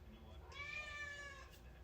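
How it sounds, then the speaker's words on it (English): A cat meows once in the background, a drawn-out, clear cry lasting about a second over low room hum, with no other sound around it. "just meowed in the background and wants attention"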